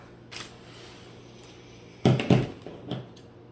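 Scissors cut a large bow ribbon on a DIY spa gift basket: a short cluster of crisp snips and rustles after a quiet stretch, then one more softer snip.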